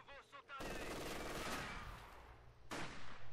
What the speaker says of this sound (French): J'essuie des tirs de mitrailleuse lourde.